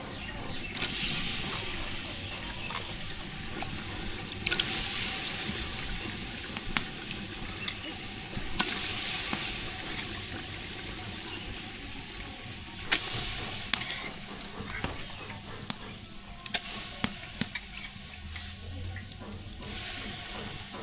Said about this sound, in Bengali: মশলা কষানো হয়ে গেছে এখন মাংসটা দিয়ে দিই